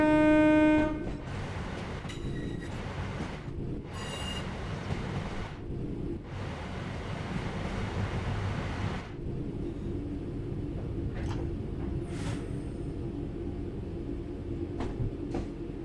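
Train in the game Train Sim World 4 coasting on level ground with throttle at zero: steady low rumble of rolling wheels and track noise, with a harmonic horn-like tone at the start and intermittent higher clanks and squeals, no talk.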